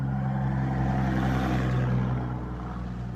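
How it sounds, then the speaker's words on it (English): A loud dump truck passes close by, its heavy engine rumbling steadily with a deep, throbbing roar that swells and then eases slightly. "loud dump truck,"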